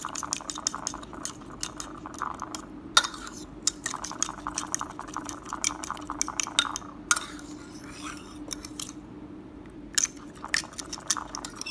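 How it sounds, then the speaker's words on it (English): Utensil stirring milk and egg whites together in a bowl for air-fried banana bread, a run of close, light clinks and scrapes against the dish with short pauses, no talking. "So I'll just stir this up."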